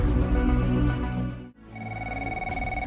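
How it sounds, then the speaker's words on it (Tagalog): A telephone bell rings in a home during an Ilocano drama, with a loud trilling ring, a brief break, then a steadier electronic ring resuming. "Ti telepono."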